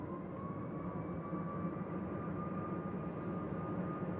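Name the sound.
Ryanair plane departing to Berlin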